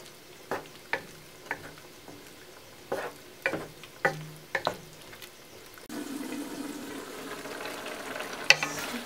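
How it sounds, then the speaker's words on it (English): Thick jajangmyeon black bean sauce bubbles in a pan while a utensil stirs it, with soft irregular scraping knocks, then a steadier boiling hiss in the final seconds. "It's boiling"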